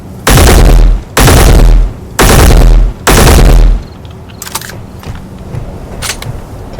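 Four loud, sustained bursts of rapid gunfire in the video game Space Engineers, evenly spaced, followed by fainter mechanical clicks and clatter.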